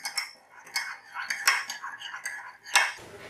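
A spoon stirs yeast into a cup of warm water in a bowl, giving a run of close, bright scraping and clinking taps against the bowl in an uneven rhythm, with no talking.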